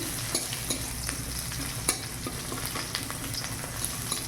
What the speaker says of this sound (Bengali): রসুনগুলোকে ভালো করে ভেজে নিতে হবে একটু।